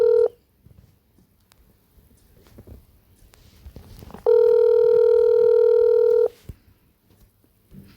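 An unanswered outgoing phone call gives a clear ringback tone: a short tail at the start, a quiet gap with faint room shuffling, then one loud two-second steady tone.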